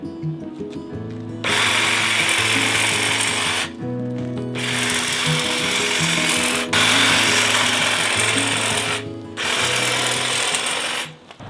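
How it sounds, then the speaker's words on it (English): A toy hedge trimmer buzzes in close, loud bursts of a few seconds each, starting and stopping several times with short pauses between. "Now we can trim the hedge."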